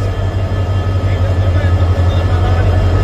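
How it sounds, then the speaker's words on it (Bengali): A train rolls into a station platform with a loud, continuous rumble and drone. Voices speak over it. "ফাইনালি আমাদের ট্রেন চলে এসছে"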